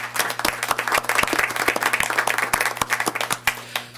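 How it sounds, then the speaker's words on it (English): Applause from the audience at a school district board meeting, dense steady clapping from many hands lasting throughout, fairly loud and close, with a constant low hum underneath. "Let's give them a round of applause, everyone."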